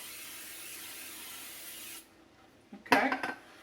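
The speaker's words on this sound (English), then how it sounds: "with a little pan spray" Cooking pan spray hisses steadily into a casserole dish for about two seconds, then stops; after a short quiet pause come a few close clattering knocks.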